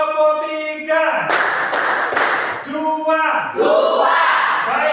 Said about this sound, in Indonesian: Tepuk 1, tepuk 3